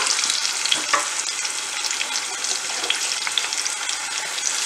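Mussels are stirred while roasting in a pan, Kerala style, with a dense, bright hiss of frying and scattered scraping stir strokes, close, steady and without speech.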